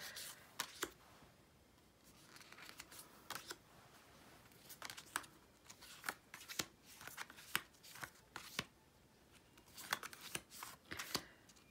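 A tarot deck with thick, high-quality cardstock is shuffled by hand, crisp riffling bursts and sharp card snaps repeating irregularly, close and fairly quiet with no talking.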